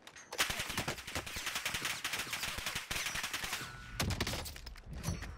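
Dense gunfire in the video game Warzone: rapid automatic bursts and crackling shots run almost continuously, with a short break before another flurry resumes, loud and busy.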